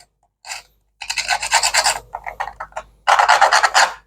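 A file rasps along the edge of a thin metal wire being shaped into a record player speaker pin, short bursts of gritty scraping strokes, close and loud, with pauses between.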